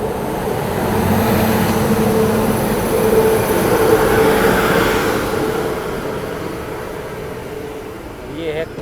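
Kamakhya Anand Vihar Express passing close by, a steady loud rumble of rolling wagons that swells in the middle and eases toward the end, with no talk over it.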